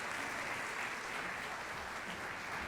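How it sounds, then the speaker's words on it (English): Concert audience applauding a 5th and 6th grade all-district orchestra: an even, continuous wash of clapping from a seated crowd, fairly distant and quiet, unbroken for the whole short stretch. "Let's hear another round of applause for our 5th and 6th grade all-district orchestra"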